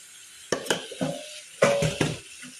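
Spices and vegetables stirred in a cooking pot with cumin and turmeric powder: a series of sharp metallic scrapes and clanks of a spoon against the pot, in irregular bursts, close and clear, with no talk.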